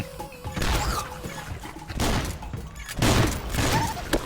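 Gunfire from the video game Swamp Attack comes in loud, rapid bursts with heavy thumps and crashes, several clusters of shots separated by short gaps.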